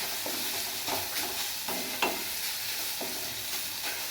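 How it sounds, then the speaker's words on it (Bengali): Green papaya frying in a pan with salt and turmeric, with soft sizzling under a rhythmic series of spatula stirring scrapes, close and alone. "হলুদ গুঁড়ো সামান্য দিয়ে দেবো। দিয়ে ভালটাই নেড়ে চেড়ে নেবো।"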